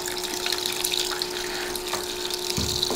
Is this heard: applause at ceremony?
no